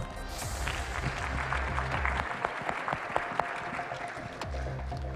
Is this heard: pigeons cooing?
no